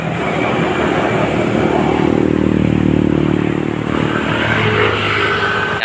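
Traffic passes on the road beneath the esplanade construction site in Manila, a steady loud roar of engines and tyres with rattling clatter, continuous and close.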